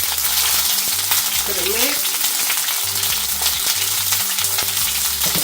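Onions sizzle loudly in a pan for Jamaican escovitch fish cooked outdoors, a steady frying hiss with stirring scrapes and a low background hum, and a brief voice speaks over it.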